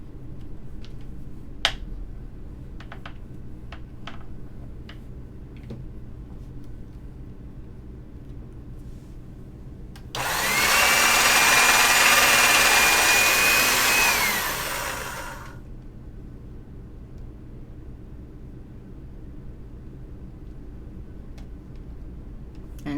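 A pasta-style rolling machine cranks a polymer clay cane through for about five seconds, a loud broadband whirring rush rising suddenly from a quiet room and then cutting off, with a few faint clicks before it.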